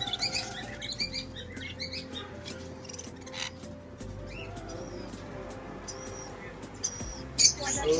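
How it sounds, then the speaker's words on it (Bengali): Birds at a pet market chirp and tweet in bursts, with some cooing pigeons or doves among them, over a low steady hum of the surroundings. "কি অসাধারণ পাখিগুলো, এটা তো দারুণ"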